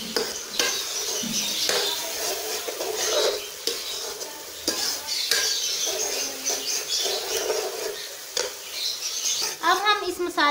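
Onions, tomato and ginger-garlic paste being stirred and frying in a pan, close sizzling with repeated scraping and clinks of a spoon against metal, a short voice near the end.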